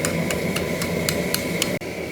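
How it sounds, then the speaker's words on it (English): A ball peen hammer strikes a steel pin to peen it over while making knifemaking tongs, giving seven evenly spaced, sharp metallic ringing blows over a steady background hiss. "in order to peen the pin over, I'm switching to a ball peen hammer here"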